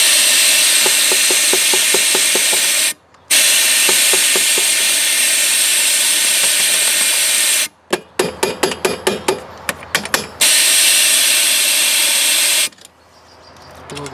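Compressed air blasted into the propane burner tube of an RV fridge: a loud, steady hiss in long bursts, cut by brief pauses and a stretch of quick rattling taps.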